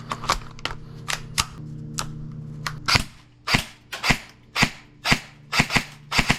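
An airsoft gun fitted with an amplifier attachment fires BBs in a string of about a dozen sharp, snappy pops, spaced irregularly, close and loud with no talking.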